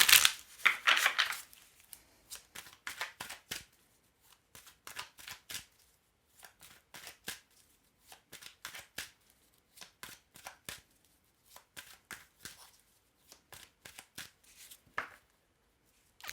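Deck of oracle cards being shuffled by hand, a long run of quick papery riffles and slaps in uneven bursts, close and fairly soft, with no talking.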